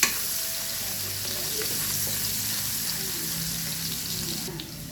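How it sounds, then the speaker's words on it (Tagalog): Onion sizzles steadily in a hot pan as the base for a sauce, a soft continuous frying hiss with light stirring, fairly quiet and close. "Sa paggawa ng sauce, lagyan ko ng onion. Ginagisaan ko na rin yan."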